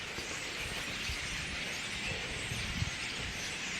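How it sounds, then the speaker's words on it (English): A huge flock of thousands of starlings in trees makes a dense, steady wash of chattering and squeaking, continuous and moderately loud, with a light breeze underneath. "that's the sound of thousands and thousands of starlings"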